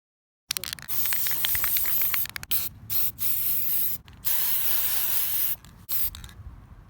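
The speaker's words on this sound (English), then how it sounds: "I will be spray painting him gold" Spray paint hisses from an aerosol can as a Dollar Tree plastic bee decoration is coated gold, in several loud, close bursts separated by short pauses.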